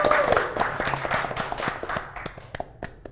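A studio audience claps for both teams on a quiz show, a brisk burst of applause that gradually thins to scattered individual claps.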